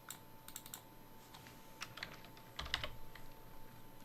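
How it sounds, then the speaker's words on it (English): Rapid bursts of keystrokes on a computer keyboard, clicking in short clusters with pauses between, close and fairly quiet, with no voices. "we want to type subscribe to those channels"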